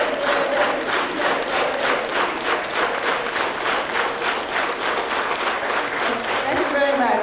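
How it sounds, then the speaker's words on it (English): A keynote audience claps in organized unison after a chant, a dense, steady rhythm of many hands filling the hall with crowd noise throughout. "let's do an organized hand clap"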